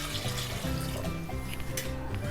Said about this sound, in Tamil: இப்போ தண்ணி ஊற்ற போகிறேன் அளவு.